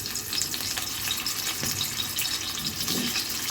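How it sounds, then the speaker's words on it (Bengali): Pangas fish heads coated in salt and turmeric frying lightly in a pan give a steady, close sizzle and crackle that runs throughout. "এখন প্রথমে একটু ফ্রাই করে নিব হালকা করে।"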